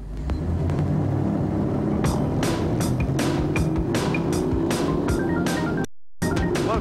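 A Skater 40 offshore powerboat accelerates at full throttle, its engines producing a loud, sustained roar with rumbling low end and rushing wind and water noise; a brief dropout interrupts it near the end.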